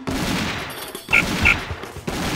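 Gunfire in the Army Men: RTS strategy game, quick bursts of small-arms fire popping in short clusters at moderate distance under a steady battle din, with a couple of sharper shots standing out.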